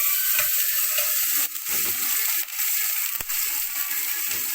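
Onion frying in a little oil for a home-cooked lunch gives a steady, close sizzling hiss throughout, broken by a few soft clicks and light knocks of a utensil in the pan.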